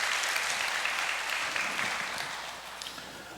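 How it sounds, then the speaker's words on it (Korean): An audience claps steadily in encouragement for a family about to give a reading at a Korean gathering; the dense, even applause holds for a few seconds and then tapers off slightly. "우리 격려의 박수 부탁드리겠습니다"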